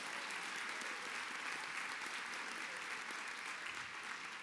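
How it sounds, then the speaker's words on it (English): Sustained applause from a convention keynote audience fills the room, dense and steady clapping throughout with no voices on top. "A big round of applause, please."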